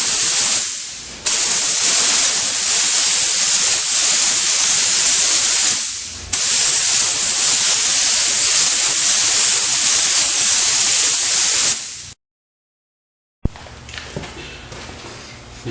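Paint spray gun laying colour coats over primer during automotive colour blending, loud close hissing bursts lasting several seconds each with brief pauses, then a silent gap and faint handling sounds at the end.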